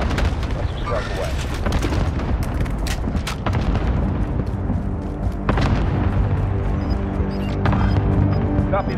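Airstrike explosions in Call of Duty: Modern Warfare pound one after another, dense loud booms and crashes layered over constant battle rumble, with radio-style voices talking underneath.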